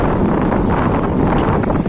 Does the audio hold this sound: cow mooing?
no